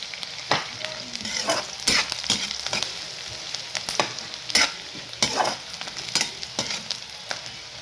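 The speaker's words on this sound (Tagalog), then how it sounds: "babrown lang po natin yung bawang at saka sibuyas" Garlic and onion fry in a pan with a continuous sizzle, broken by repeated sharp scraping strokes as the mixture is stirred, close and fairly loud with no voices.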